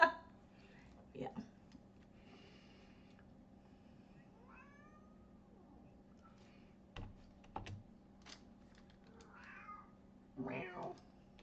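A cat meows a few times at low volume, the calls drawn out and spread across the clip, with scattered computer-keyboard clicks and a steady low hum in a quiet room.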